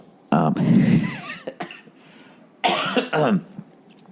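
Two bursts of harsh coughing, close by, the first long and rasping, the second shorter after a pause, with faint throat noises between.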